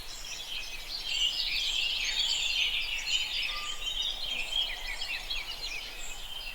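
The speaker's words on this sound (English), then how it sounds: "Wow, look at all those birds." A dense chorus of many birds calling together, a steady wash of overlapping chirps and tweets heard from a distance, continuous and fairly even throughout with no voices.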